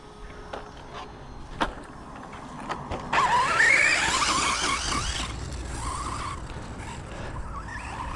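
A HOBAO 10TT RC buggy with a 4250kv 3660 motor runs at full throttle on grass, tires skidding. A loud, steady motor whine with tire scrub swells in about three seconds in and holds, fairly close, with no talking.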